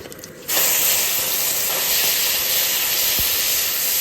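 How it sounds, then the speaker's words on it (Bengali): Cumin and dried chilli tempering hit hot oil with a sudden loud sizzle, a steady bright hiss of frying spices that carries on alone without talk. "ফোড়নে দেবো জিরে আর শুকনো লঙ্কা।"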